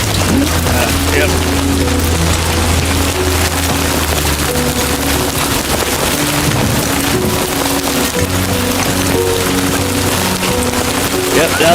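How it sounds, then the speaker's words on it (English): Timefall rain in the video game Death Stranding 2 pours steadily as a loud, dense hiss of falling drops, with occasional deeper rumbles and game voices or tones mixed in underneath. "I need to get out of this rainfall with what they call rainfall. I think it's timefall around here."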